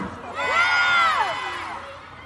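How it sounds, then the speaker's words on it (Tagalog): A festival crowd at a concert in the Aurora Music Festival shouts and cheers together, a loud swelling roar of many voices that peaks and then slowly fades. "Ang hina ng sigawan."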